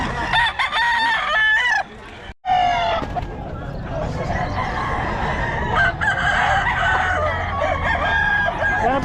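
Roosters crowing and chickens clucking at a small roadside poultry seller's stall near a tricycle parking area, with repeated loud crows over steady market chatter and people talking throughout.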